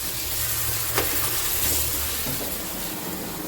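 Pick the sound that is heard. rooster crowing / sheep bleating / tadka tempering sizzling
tadka tempering sizzling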